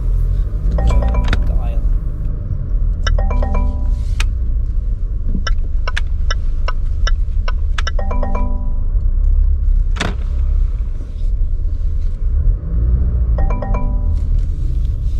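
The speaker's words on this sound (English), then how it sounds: "I'm gonna have to drive around and do this again." Range Rover Velar rolling slowly around a parking lot, a steady low engine and road rumble inside the cabin, broken by repeated short electronic chimes and beeps, with someone talking throughout.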